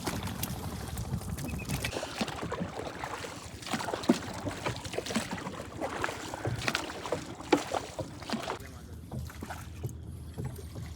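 A fishing boat for prawns approaches across the water, its steady engine and water wash forming a continuous rumble with wind noise, while voices talk intermittently over it.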